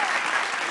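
A studio audience on a Bengali family game show applauds in a brief, dense burst of clapping, loud and even from start to finish.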